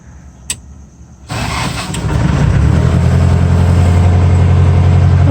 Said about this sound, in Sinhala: ඔන්න එක්ස්කේවේටර් මැෂින් එකක් ඇතුලේ ස්ටාර්ට් කරන විදියයි